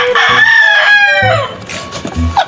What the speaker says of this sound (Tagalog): Binigyan mo kami ng manok.